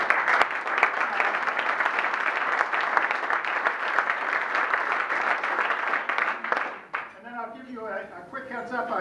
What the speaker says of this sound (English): I would like the committee people to stand for a second and just get some applause from the group